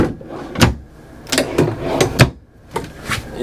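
Drawers in a 2014 Winnebago Sightseer 30A motorhome slide and bump shut several times, giving a string of close, loud knocks and thuds with short scraping runs between them.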